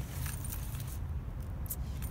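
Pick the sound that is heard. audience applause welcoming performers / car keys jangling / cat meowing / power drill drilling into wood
car keys jangling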